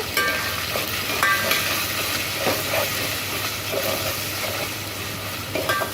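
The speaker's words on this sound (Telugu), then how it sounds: "అల్లం వెల్లుల్లి పేస్ట్ వేసుకొని పచ్చివాసన పోయే వరకు ఫ్రై చేసుకున్నాను" Ginger-garlic paste with turmeric fries in a pan with a steady crackling sizzle and occasional stirring scrapes, close and continuous, no talking.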